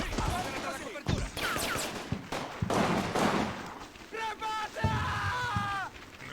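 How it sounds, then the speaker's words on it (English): Machine guns in the WWII tactics game Combat Mission rattle off bursts of gunfire mixed with distant battle noise, while voices call out over the shooting. "there's more machine guns firing"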